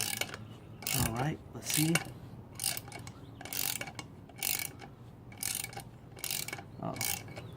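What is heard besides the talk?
loosening a GY6 starter bolt counterclockwise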